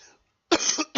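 A single ill person coughs twice close to the mic, a short harsh burst then a second cough after a brief pause, with no other sound.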